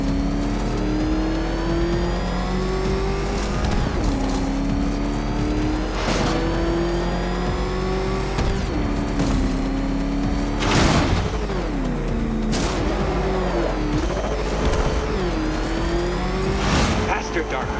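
Batmobile engine in Batman: Arkham Knight revving hard and accelerating through repeated rising pitch sweeps, with loud bursts and skids over a steady game soundtrack, a voice speaking intermittently over it.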